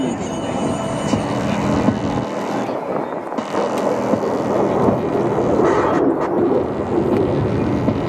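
An F-16 Viper fighter jet passes at high speed during an airshow in New Orleans, a loud broad roar that swells and sustains, heard outdoors with a crowd and an announcer's voice mixed in.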